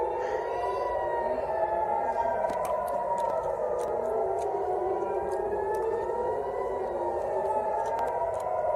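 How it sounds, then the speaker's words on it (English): Air raid sirens wail continuously during an attack on the Gaza Strip, a loud wavering rise-and-fall drone that holds throughout, with faint clicks and crackles over it. "Air raid sirens are going on and on."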